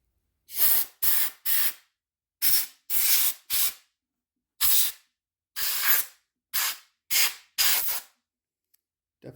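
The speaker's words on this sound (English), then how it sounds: "we're just gonna blow this out a little bit with some air" Compressed air blowing dust out of an IBM 5150 PC: about a dozen loud, close hissing bursts, each under a second, separated by short silences and with no talking.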